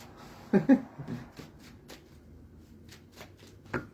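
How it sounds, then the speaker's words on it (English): A tarot card deck is shuffled in a few short, soft riffling bursts near the microphone, spaced with pauses, in an otherwise quiet room. "Gosh, they're telling me how to shuffle here."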